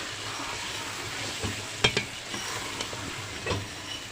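Meat fries in a pan with garam masala powder, a low steady sizzle broken by a few sharp spatula clinks and scrapes, close and fairly quiet.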